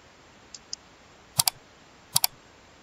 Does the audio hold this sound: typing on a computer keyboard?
yes